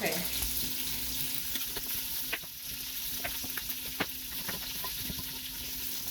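Beef searing in an Instant Pot for Indian beef curry, a steady close sizzle with scattered light clicks and pops throughout.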